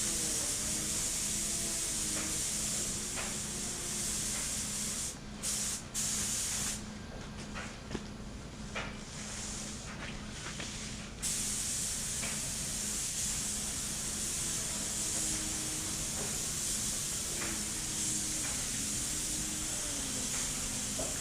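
A steady, loud hiss of a spray gun spraying car paint on a Hyundai Sonata runs continuously for a long stretch, with faint shifts in tone and soft clicks underneath.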